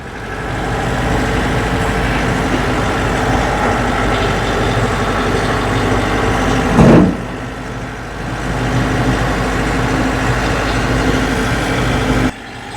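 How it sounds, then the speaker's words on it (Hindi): A pickup truck engine runs steadily while the vehicle is driven. The loud, continuous low rumble carries on alone, with a brief bump near the middle and a short cut near the end. "आज मैं जो है पिकअप दूसरी बार चला रहा हूँ"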